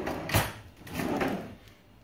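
A kitchen cutlery drawer sliding: a short bump near the start followed by a longer sliding rumble, close and fairly quiet, then fading out.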